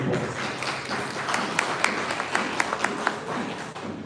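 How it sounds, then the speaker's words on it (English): Applause welcoming Johan Kutzi to the stage at a startup accelerator demo day in South Africa, a moderate scattered clapping with several sharper individual claps standing out near the microphone. "Round of applause."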